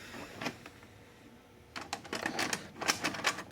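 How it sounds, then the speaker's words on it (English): A 1985 Magnavox VR8530SL01 VHS VCR, a motorized top-loading design, runs a tape with a quiet burst of mechanical clicks, then a denser clattering run of ticks and whirs from its transport. "I'm just going to run my tape through it real quick"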